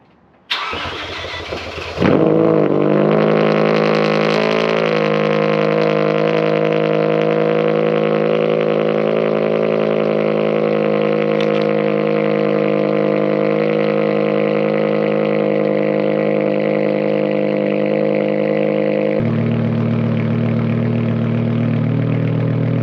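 BMW E60 M5 with resonators and muffler deleted, cold-starting: brief cranking catches into a loud, raspy roar that settles into a steady, high, droning fast idle, then drops to a lower, deeper idle near the end.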